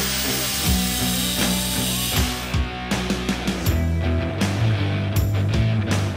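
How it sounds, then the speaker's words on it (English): The excess float rod of a fuel tank sending unit is cut with a power tool, a loud, close, continuous grinding buzz with rising and falling pitch and short interruptions. "Mark the excess rod to show where you need to cut."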